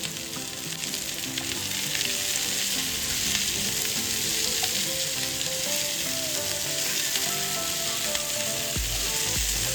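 Red, green and yellow bell peppers fry in a pan for creamy white sauce pasta, giving a steady, close, bright sizzle that carries on evenly throughout, with no voices.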